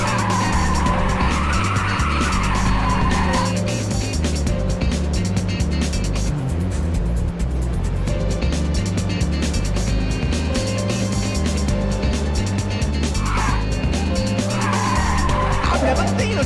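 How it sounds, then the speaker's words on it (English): Race cars drifting with tires skidding and squealing in the video game Ridge Racers 2, over constant loud engine roar and pounding game music; sustained squeal swells rise and fade throughout. "I've never seen a drift like that!"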